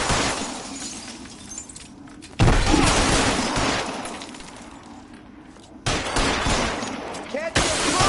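Gunfire in L.A. Noire, a shootout where sharp shots and bursts crack out with what sounds like glass shattering, loud and close, arriving in a few heavy clusters with fading tails.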